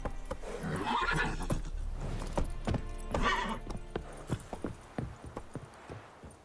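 Roach, a horse in The Witcher 3 game, gallops with rhythmic clip-clop hoofbeats and lets out two loud neighs, the hooves continuing alone after the whinnies fade.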